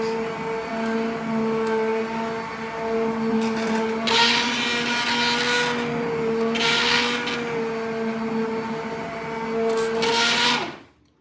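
A blender purées a hot cooked peach mixture for peach butter, a steady high motor whine running about ten seconds with two louder surges of churning before it cuts off abruptly.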